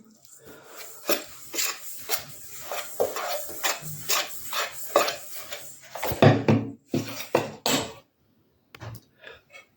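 Peanut butter date cookie ingredients are mixed in a bowl, with irregular clinks, scrapes and knocks of a utensil against the dish, fairly close and clear, ending in a few scattered taps.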